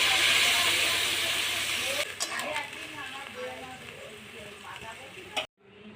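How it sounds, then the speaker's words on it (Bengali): Hot water poured into potatoes frying in a pan erupts in a loud burst of hissing steam, then settles into softer crackling sizzle before cutting off abruptly. "এবার আমি এই গরম জলটা দেবো।"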